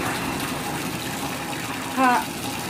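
Hot water running and splashing in a basin during a rinse while cloth diapers are hand washed, a steady gushing flow with a brief squeaky scrape near the end.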